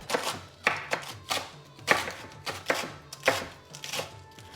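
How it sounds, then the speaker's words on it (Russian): A knife finely chops a big bunch of green onion on a cutting board in a quick, even series of crisp taps, close by and with no talking. "Берем такой хороший большой пучок лука. И нарезаем его так мелко-мелко"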